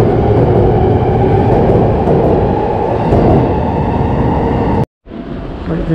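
Loud, steady rumble of a commuter train stopped at platform 2 of a Japanese JR station, humming and rattling continuously, then a sudden brief cutoff before the noise resumes more quietly.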